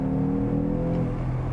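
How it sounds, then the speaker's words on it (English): A 2022 Mercedes-AMG GT 43 four-door with a turbo-electric straight-six and sport exhaust, burbling steadily and loudly close by, with a continuous low engine rumble and no talk over it. "Mix those little burbles and pops."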